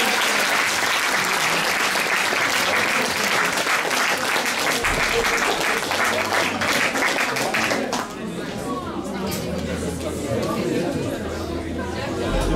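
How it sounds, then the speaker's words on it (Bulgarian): Loud crowd applause for a 10th-grade student called to the stage at a school Christmas concert, dense clapping that thins after several seconds into chatter and scattered claps. "Аплодисменти за Христина!"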